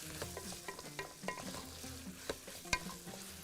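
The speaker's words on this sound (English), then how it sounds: "We keep stirring it." Margog stew frying in a pot, with a soft continuous sizzle broken by repeated scraping and clinking strokes of a stirring utensil, one sharper clank near the end, quiet and close.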